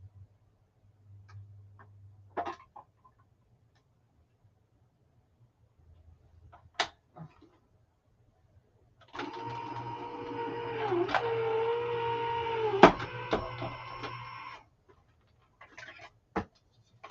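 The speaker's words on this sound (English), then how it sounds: "I'm going to run this through my die cut machine" A die cut machine runs a craft die through in one continuous mechanical hum and grind lasting several seconds, with a few isolated clicks before and after in an otherwise quiet room.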